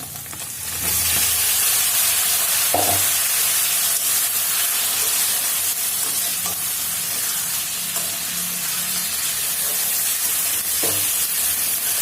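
Fish dropped into hot oil with fried onion and garlic paste gives a steady, loud sizzle throughout, with a few brief stirring clinks and scrapes over the continuous frying hiss.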